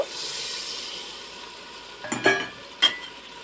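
A paste of ground ginger, green chilli and peanuts goes into a hot pan and sizzles softly, with a couple of sharp scraping clinks from a utensil near the end.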